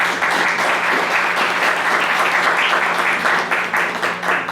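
Audience at a tribute evening breaks into sustained applause, a full, even roar of clapping that stays loud for the whole stretch.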